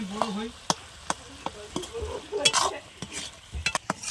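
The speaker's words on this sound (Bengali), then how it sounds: "আর একটু কুমড়োগুলো একটু ঘেটে দেবো দিলে ঘন্টটা ভালো লাগবে" Pumpkin ghonto, a Bengali curry, being stirred in a pan, with a spoon scraping and knocking against the pan at irregular intervals over a soft sizzle, close and moderately loud.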